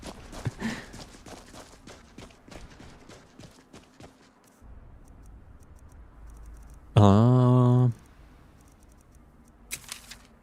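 Horse hooves in the Skyrim video game clop rapidly and steadily for several seconds before fading out. A loud, sustained tonal game sound and a few scattered effects follow.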